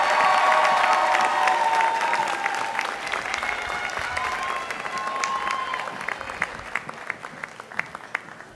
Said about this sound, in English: another round of applause for the class of 2019